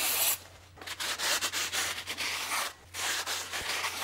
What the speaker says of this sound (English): I'm gonna give the brake disc a quick wipe with some brake and parts cleaner